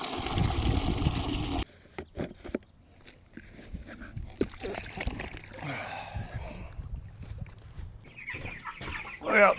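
Chickens clucking at a water supply, with a loud burst of noise at first, then scattered close clucks and pecking taps that come and go, ending in a brief louder flurry.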